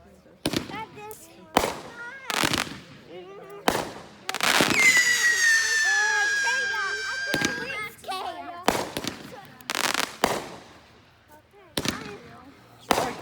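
Backyard Fourth of July fireworks in 2020, a string of sharp loud bangs spaced a second or two apart, with a long whistling rocket screech midway and people talking between bursts.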